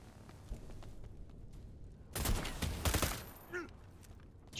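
Gunfire in the video game Necromunda: Underhive Wars, a bolter hit, heard as a short burst of fairly quiet, rough rattling shots under low game ambience, followed by a brief whooshing effect.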